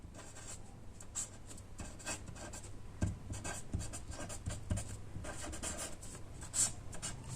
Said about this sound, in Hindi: उन हार्मोनों के अपन नाम लिखते हैं